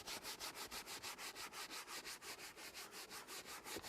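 Leather seat being scrubbed with Chemical Guys leather cleaner, giving a steady, rapid back-and-forth brushing rasp that repeats about every fifth of a second, close and fairly quiet, with no talking.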